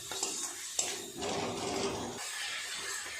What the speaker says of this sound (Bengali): দু 3 মিনিট সময় নিয়ে এইভাবে মশলাটা খুব ভালোভাবে কষিয়ে নিতে হবে।